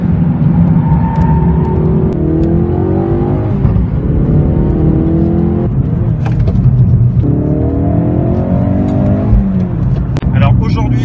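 A Ford Focus RS lapping the Circuit du Castellet heard from inside, engine revving hard and rising through repeated gear changes with brief dips between them, while a passenger talks over the loud cabin roar.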